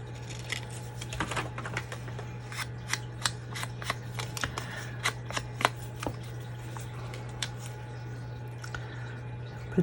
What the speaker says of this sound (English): I'm going to trim this bottom a little bit more.